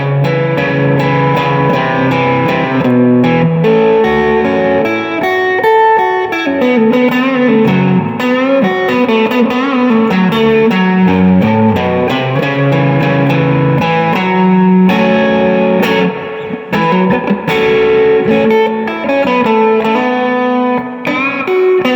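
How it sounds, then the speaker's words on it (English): Electric guitar on its neck pickup played through a Like My Pedals Dual Preamp Overdrive, a warm, driven bluesy tone with sustained chords and melodic lines, loud and continuous, no talking. "if I would go to my neck pickup for some more bluesy type tones,"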